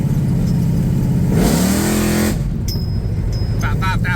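A car engine with a new torque converter revs up hard during a stall test, a loud rising roar that holds near about 5,000 rpm, then drops away abruptly, with voices talking over it near the end.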